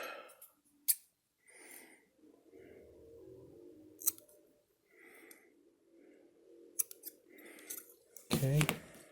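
Scissors trim material for a model rocket parachute bag, giving a few crisp, close snips with quiet handling rustles between them, and a voice talks intermittently over it.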